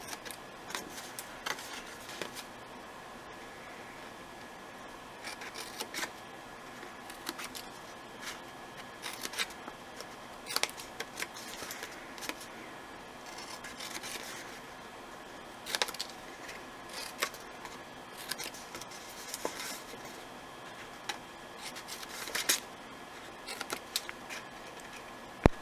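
Scissors snipping the extra corners off a paper pinwheel treat box, a long run of short, sharp, close cuts in irregular bursts with faint rustling of paper between them.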